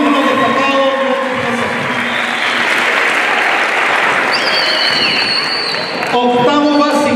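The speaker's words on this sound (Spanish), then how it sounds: "Un aplauso para el séptimo año básico" Parents and students at a school semester-closing ceremony applaud the seventh grade, loud continuous clapping with scattered cheers, joined by music and a voice over the loudspeaker toward the end.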